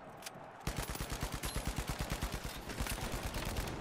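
Rapid automatic gunfire from a weapon in the video game The Finals, a steady burst of close, loud shots in quick regular rhythm after a brief quieter moment.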